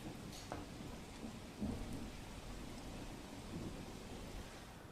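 Heavy monsoon rain pours steadily in Narmada, India, a dense continuous hiss with a few brief louder bursts, no voices.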